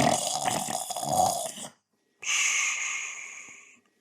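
A voice imitates snoring, giving a rough, rattling breathy snore that runs about a second and a half, then a short silence, then a longer, smoother, hissing exhale of about a second and a half, heard up close with no other sounds.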